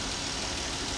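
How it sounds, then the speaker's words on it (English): A Jeep truck engine with a worn cam lobe idles steadily, a faint valve-train tick running through the constant low drone for about a second with no talking. "there's a tick in the valve train"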